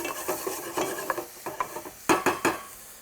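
Spring garlic being stirred in a pan to soften, a run of quick scraping and tapping strokes of a utensil against the pan over a light sizzle.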